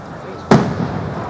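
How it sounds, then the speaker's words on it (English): A single firework bursts at a Grosse Pointe Woods display, one sharp, loud boom with a short rumbling tail over a steady outdoor hum. "You like the fireworks?"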